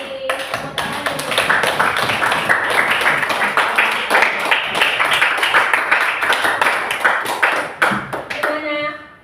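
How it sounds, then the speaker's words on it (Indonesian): A class bursts into brisk, continuous hand clapping after a group presentation in a classroom, close and lively, fading out near the end as a voice begins to speak. "Tepuk tangan dulu."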